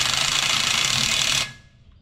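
Power tool, likely an impact wrench, running with a 3/4 inch socket on the wheel bolts of a Minneapolis Moline ZAU tractor; a loud, steady whirring burst of about one and a half seconds that stops abruptly and leaves a faint tail.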